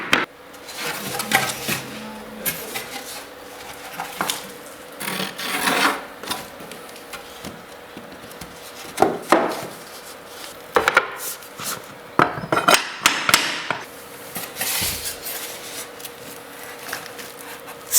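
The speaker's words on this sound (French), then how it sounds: "tu les relis à celles précédentes avec un marteau et une cale à frapper" A hammer knocks on a tapping block to join snap-together parquet boards, giving irregular bursts of sharp knocks and scraping thuds, fairly close, with quieter pauses in between.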